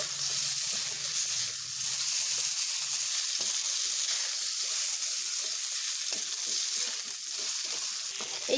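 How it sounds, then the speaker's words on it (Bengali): Potatoes and ridge gourd frying together in a pan, a continuous soft sizzle and hiss with a few quiet stirring scrapes, close and steady without speech. "এবার আলু ও ঝিঙেগুলোকে ভালোভাবে মিশিয়ে নেব"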